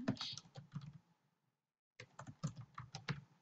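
Close, quiet clicking of computer keyboard keys while code is typed in Visual Studio, two short bursts of irregular keystrokes separated by a second of silence, with no talking.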